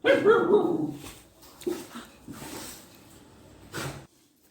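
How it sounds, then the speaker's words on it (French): A female guard dog barks on a terrace, loud and close at first, then trailing into softer, more distant barks and whimpers over a few seconds. "c'est ma chienne sur la terrasse. Elle entend du bruit, donc elle aboie."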